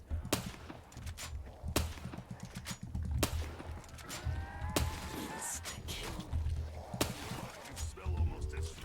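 Automatic gun in a Black Ops 3 custom zombies game, firing in scattered short bursts of sharp reports with gaps between them, close and moderately loud, mixed with other game noises and someone talking at times.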